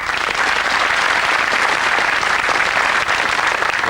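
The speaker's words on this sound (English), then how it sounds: "A shake of the hands, another clap of the hands too." Studio audience at a 1989 UK television game show claps loudly and continuously, a close, dense burst of applause with no talk over it.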